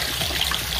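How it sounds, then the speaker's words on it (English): Warm water runs from a tap in a home bathroom, a steady close splashing hiss with no pauses over a brief stretch. "So for Riley, I'm going to run her warm water."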